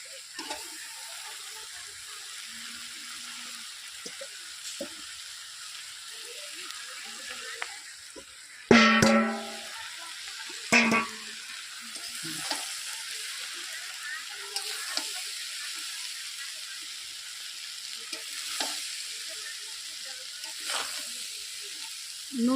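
Cooked rice is stirred little by little into a fried mixture in a pan, producing a soft, steady sizzle with an occasional sharp scrape or clank of the spoon against the pan.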